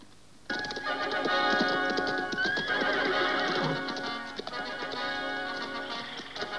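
A horse whinnies loudly and at length, close by, with clip-clopping hooves heard around the call at an equestrian jumping contest in a historical drama.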